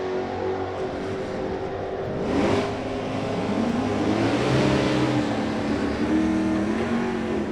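A 1968 Chevy Nova with a 327 and a Camaro launch side by side at a Sonoma drag strip, engines roaring loudly and continuously as they accelerate away, the pitch rising and sweeping through the run.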